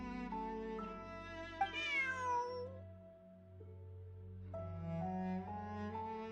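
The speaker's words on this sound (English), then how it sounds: "Bonnie is Pierre's cat." A cat meows in a video game, a few drawn-out mewing calls rising and falling over a steady game music background, loud and close with a short quiet gap between calls.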